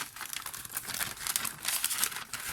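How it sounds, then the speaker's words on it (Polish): Close, crisp rustling and tearing of paper in quick, uneven bursts, wrapping crinkling loudly as it is ripped open. "Nie widziałam nożyczek, to muszę trochę tutaj rozwalić papier."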